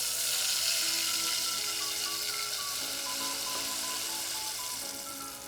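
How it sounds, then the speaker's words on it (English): Blended peppers sizzle steadily in hot oil for yam porridge, a loud, continuous frying hiss close to the pan with faint crackles and no talking. "Can you hear that sizzle?"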